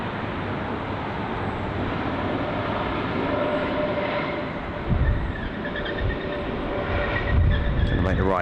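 A Swiss A320neo airliner lands at Heathrow, a continuous broad jet rumble with low thumps and rising whine near the end, heard from a distance.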